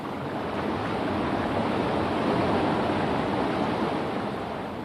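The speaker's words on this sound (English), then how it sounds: "As water flows over this fall, it carries some air with it into the stream below." Water pouring over a small waterfall into a stream below, a steady, dense rushing wash that holds even and close throughout, with no voices.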